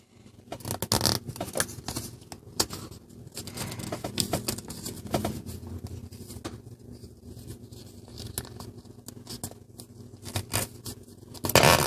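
Origami paper being creased and folded by hand while making a spinning top, giving soft crinkling and rustling with sharper crackles at a few creases, close and fairly quiet with no talking.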